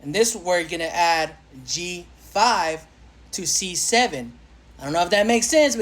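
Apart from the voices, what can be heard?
No everyday noise stands out behind the speech.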